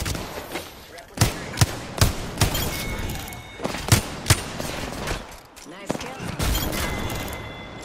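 Gunfire in the video game Apex Legends, with sharp loud shots fired in irregular bursts and single cracks over a steady background of combat noise. Glass-like breaking sounds mix in, and voice callouts are heard under the shooting.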